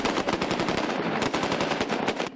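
Rapid automatic gunfire rattles continuously during an OMON special forces training exercise, dense bursts of shots blending into a loud sustained clatter with no talk.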